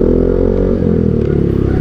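A motorcycle fitted with a new pulley pulls away hard, its engine roaring loud and close with a deep, rumbling drone that shifts slightly in pitch as it accelerates.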